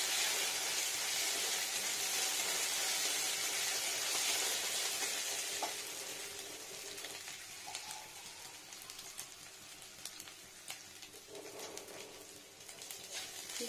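Cumin paste made from raw cumin frying in a pan with a dense, steady sizzle that is loud at first and then thins into a quieter crackle with scattered pops, with no voices over it.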